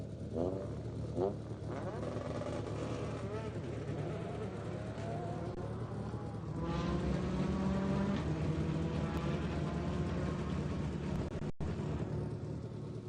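A rally car starting a hillclimb run on a rural club course, its engine revving and roaring off the line, then fading as it climbs away, with a faint announcer voice underneath.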